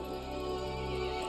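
A horse neighs in the Resident Evil Village video game, one sustained, loud whinny with rich harmonics that fills the whole moment, up close and alone.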